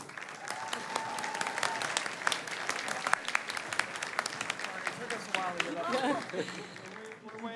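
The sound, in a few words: applause for award winners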